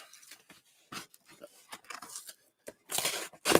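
Scissors cutting open a cardboard mail package at close range: irregular short snips and tearing bursts with gaps between them, ending in louder rustling, rough cuts; a dog pants nearby.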